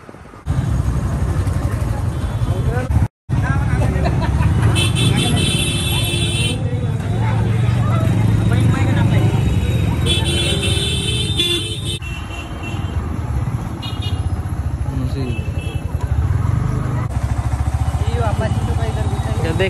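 Motorcycles and other traffic pour along a road away from a village fair, with engines droning continuously, horns sounding now and then and people chattering nearby.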